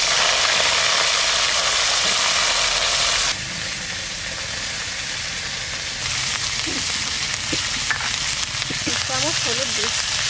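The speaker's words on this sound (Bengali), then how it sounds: "এবার তেলের মধ্যে ছেড়ে দেবো।" Washed cauliflower florets fry in hot oil in a home kitchen pan, a steady loud sizzling hiss that drops in level partway through and then picks up again, crackling on throughout.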